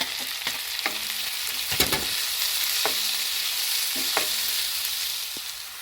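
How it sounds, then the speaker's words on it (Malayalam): Tomatoes and curry leaves sautéing with shallots in a hot pan: a steady close sizzle with scattered stirring scrapes and knocks of a utensil, no voices. "ഇനി നമുക്ക് തക്കാളി കുറച്ച് കറിവേപ്പില ഇടാം"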